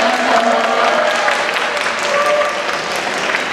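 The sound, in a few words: audience applause for Yuna Kim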